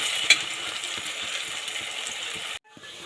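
Tomatoes and spices sauté in a pan for a mutton chops gravy, a close, even, hissing sizzle with a small clink early on, cutting off abruptly near the end.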